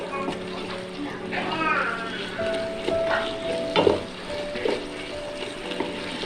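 Beef with spices is stir-fried over high heat for a Bannu beef pulao, giving a steady, close sizzle with the scrape and clatter of stirring, while someone talks over it.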